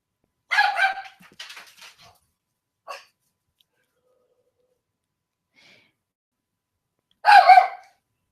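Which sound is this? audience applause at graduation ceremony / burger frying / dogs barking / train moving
dogs barking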